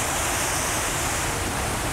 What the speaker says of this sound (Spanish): Estamos en una pasarela dentro de las cataratas y esto debe ser como un 360.